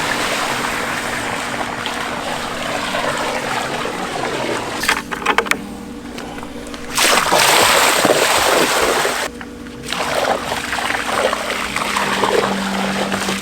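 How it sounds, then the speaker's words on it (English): Dissolved calcium increaser is poured from a bucket around the edge of an outdoor pool, a steady wash of splashing water under breezy microphone rumble, swelling louder in a couple of stronger gushes. "We'll mix this up good to let it dissolve, and then pour it around the edge of the pool"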